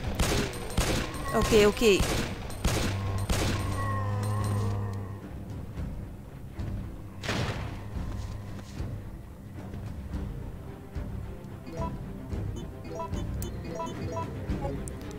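Gunfire in the Resident Evil During the Storm demo, a loud close burst of rapid shots at the start followed by a few sparser single shots over a steady game background, with someone talking briefly.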